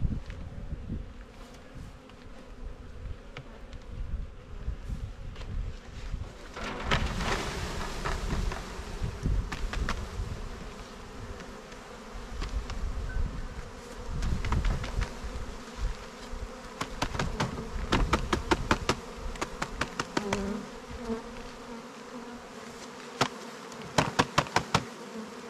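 Honey bees buzz in a dense, droning swarm as they are shaken from a box into a new hive, with thumps and knocks from the shaking breaking through the hum.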